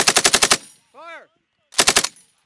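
M240 Bravo machine gun on a firing range, firing two short, loud bursts of about seven and five rounds with a sharp rapid rhythm, separated by a brief shouted voice.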